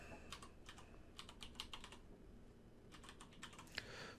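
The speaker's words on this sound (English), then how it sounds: "so I'm going to type in the my.esri.com address" Quiet keystrokes patter on a computer keyboard in two short bursts as a web address is entered, close and soft with a brief pause between runs.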